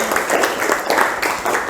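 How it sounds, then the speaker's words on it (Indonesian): A group in a chemistry class on acid-base indicators receives a short burst of applause, with dense, steady clapping that keeps up for under two seconds. "tepuk tangan dok untuk kelompok 1"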